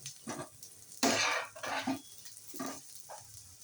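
Besan pola roasts in a pan, giving off a soft sizzle in short, uneven swells, with faint scraping between them and no voices heard.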